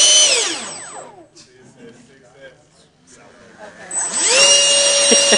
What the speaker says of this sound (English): That's an electric ducted fan.